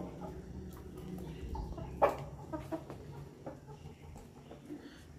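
Aseel rooster on a farm in Punjab making soft, scattered clucks and short calls at moderate distance, with one sharper call standing out among quieter farmyard sounds.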